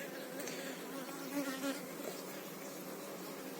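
Honeybee swarm buzzing at a hive in an apiary, a dense, continuous hum of many bees, fairly close and even, with one slightly louder pass midway.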